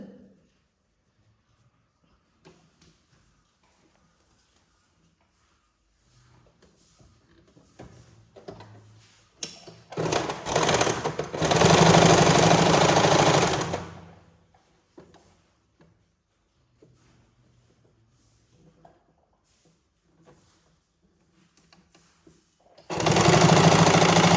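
Sewing machine stitching around a square blouse neckline, running in two loud sustained bursts with quiet handling gaps between them.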